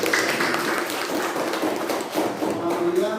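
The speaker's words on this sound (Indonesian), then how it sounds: "berikan tepuk tangan pada" Classroom applause from students after a lesson, a dense steady clatter of many hands clapping throughout, fairly loud and close, with voices mixed in.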